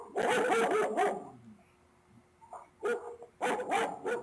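A puppy barks in bursts: a quick run of yappy barks, a pause with a faint whimper, then more barks close to the recorder.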